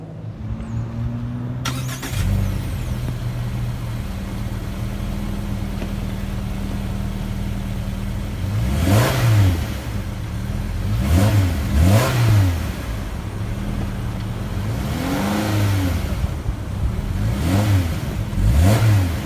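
Engine of a 2018 Subaru Crosstrek 2.0i Limited cranks and starts by push button, settles into a steady idle, then is blipped in several short, sharp revs near the car.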